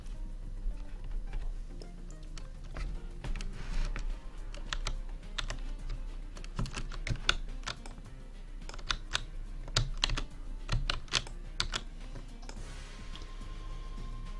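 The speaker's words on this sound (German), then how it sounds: "Ich glaube, der schreibt gerade irgendwas." Rapid, uneven clatter of keys on a computer keyboard, close and fairly loud, with short bursts and pauses over about fourteen seconds and no voices.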